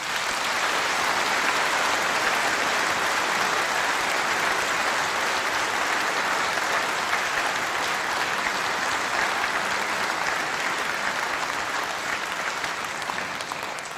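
Sustained, dense applause from a large audience for the staff at the closing evening of a summer singing event, loud and steady for the whole stretch with no voices over it.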